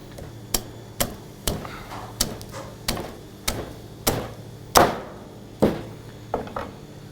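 A cleaver chops a carp open with about a dozen sharp, evenly spaced thuds on a board, each hit distinct and close, with no talking.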